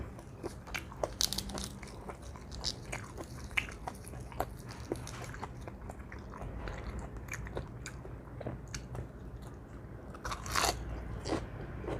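Grilled squid is chewed with loud, crunchy bites, crisp crackles repeating irregularly throughout over a low steady background hum, close to the microphone and without speech.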